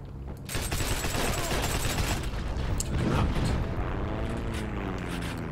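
A captured enemy gun fired in the Heroes and Generals video game, with dense, sustained automatic fire and booming, heavy and continuous throughout, close and loud.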